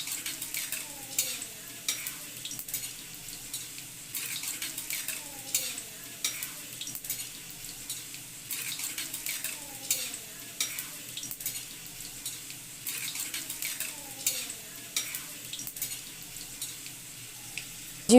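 Cumin and mustard seeds frying in hot oil in a pan for Gujarati tawa pulao, a steady close sizzle with repeated stirring and scraping strokes throughout.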